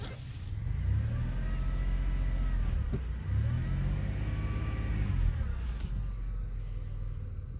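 A 2000 Chevrolet Impala driving with a transmission fault, its engine rising in pitch, dropping, then climbing again as it shifts from first to second, with the gear change giving a jerk, heard steadily from inside the car.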